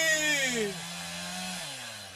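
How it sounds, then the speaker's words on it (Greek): An electric saw runs in a short burst, its whining motor pitch dropping and settling as it spins down, heard alone without speech. "Φέρτε το πριόνι!"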